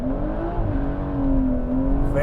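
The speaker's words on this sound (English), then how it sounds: "The quick little launch control." A 2018 BMW 340i pulls away under launch control, its engine note climbing steadily in pitch and loudness through a hard, continuous acceleration heard from inside the car.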